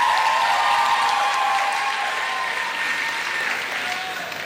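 A live audience at the European Cosplay Gathering applauds the contestants, with dense, loud clapping that fades slightly toward the end.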